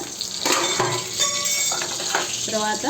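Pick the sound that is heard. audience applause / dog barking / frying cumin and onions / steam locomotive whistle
frying cumin and onions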